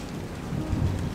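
A steady wash of rain with a low rumble of thunder rolling under it, holding at a moderate level and swelling slightly near the end.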